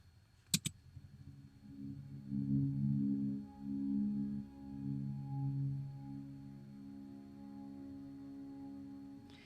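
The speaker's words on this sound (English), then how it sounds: "these are kind of like pad sounds or synth sounds" A faint, airy synth pad made in Logic Pro swells softly with slow, sustained tones, preceded by a couple of sharp clicks, quiet and calm with no voices.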